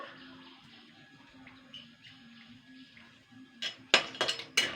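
Lentil dumplings (bori) fry in medium oil in a wok, a faint quiet simmer at first, then a spatula stirs them with a few sharp metallic clinks and scrapes near the end.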